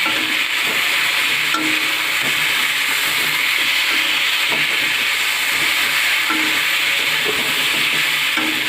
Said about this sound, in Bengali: একটু নাড়াচাড়া করে নিলাম।